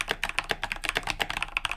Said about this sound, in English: I like the fat, clicky sound, or the keyboard enthusiasts call it a thok.